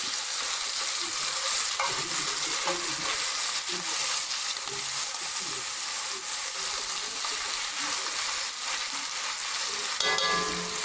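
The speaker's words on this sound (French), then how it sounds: "On va remuer ça un petit peu pour faire descendre un petit peu l'oignon." Onion frying and being stirred in a pot with rabbit pieces, a steady dense sizzle with scraping stirring strokes throughout, close and continuous, no talk.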